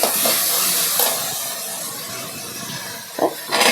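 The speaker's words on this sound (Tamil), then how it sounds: "நல்லா வெங்காயம் வதங்குது, வதங்கட்டும்." Onions sauté in a pan for a village-style brinjal curry with green field beans, making a steady hissing sizzle with a few sharper bursts near the end.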